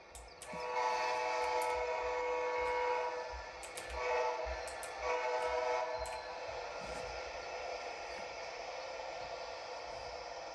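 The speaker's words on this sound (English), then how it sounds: "we have Amtrak's California Zephyr speeding through the Highland Station with an SC44 Charger" A passenger train in the Roblox game Metra Train Simulator, the Amtrak California Zephyr led by an SC44 Charger locomotive, speeds through Highland Station, its steady rolling roar and rumble filling the scene with brief horn-like tones near the start and middle.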